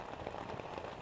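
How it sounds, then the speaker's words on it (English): Rain falls steadily at a wilderness canoe campsite, a dense soft patter of drops on surfaces, even and continuous, moderately quiet. "I like rain."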